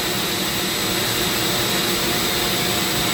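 A cheap Black & Decker 5-inch disc sander with a sawdust collector runs steadily, giving a loud, even whirring hiss with no breaks and no voices.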